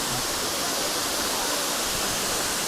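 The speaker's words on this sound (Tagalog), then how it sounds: "Nandito kami sa malapit sa falls. Ito yung pinakababa ng falls." Aw-Asen Falls roars in a steady, dense wash of rushing water, heard close from the base of the waterfall. The sound fills the whole clip with no break and no voices.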